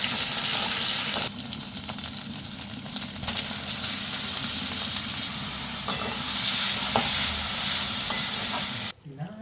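Ginger paste frying in white oil and ghee, giving a dense, continuous loud sizzle with stirring underneath, a few sharper spits along the way, cut off abruptly at the end.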